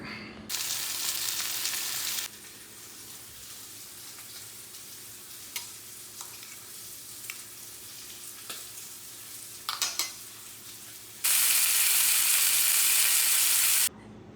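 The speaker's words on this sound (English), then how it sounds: "about to cook some pasture-raised eggs" Ribeye steak and pasture-raised eggs sizzle in a pan with a steady broadband crackle, swelling into loud bursts of hiss at the start and again near the end, with occasional utensil taps between.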